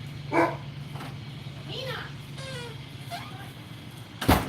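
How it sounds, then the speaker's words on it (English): A house dog barks at people arriving outside, giving a few brief barks and yips partly masked by nearby talking and background noise, ending with one sharp, loud bark. "And there goes my dog because they're here."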